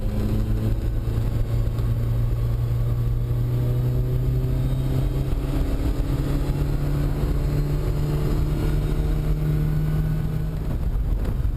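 A Ferrari 308 GTB engine drones steadily from inside the car on a race track, a loud continuous tone that climbs slowly in pitch as it pulls through the revs, with no talking.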